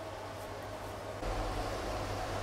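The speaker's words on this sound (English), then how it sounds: "excuse the noise of the swamp cooler." A swamp cooler runs as a steady, faint broadband hiss with a low hum beneath, its noise rising slightly partway through and continuing alone without talk.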